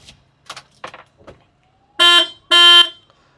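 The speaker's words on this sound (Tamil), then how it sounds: "ஹாரன் நல்லா சவுண்டாகவே இருக்குது" A Tata Ace Pro petrol mini truck's horn gives two loud, bright honks, each lasting about a quarter second, after a few quiet clicks and knocks from inside the cab.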